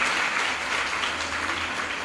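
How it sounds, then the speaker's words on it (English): Sustained applause from an audience at a high school annual prize giving ceremony, dense, even clapping that fills the hall without a break. "Give yourselves a round of applause"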